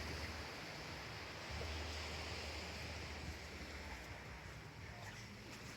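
Surf washes steadily onto the beach at Gili Air in low sea, a broad continuous roar with a low rumble and wind buffeting the microphone throughout.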